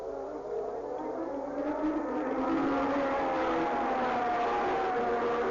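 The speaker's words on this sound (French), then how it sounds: "Ici, c'est une Toleman qui rentre, c'est celle de Théo Fabi." Theo Fabi's Toleman Formula 1 car runs at the 1982 San Marino Grand Prix with a sustained, high, whining engine note whose pitch slides up and down at moderate distance.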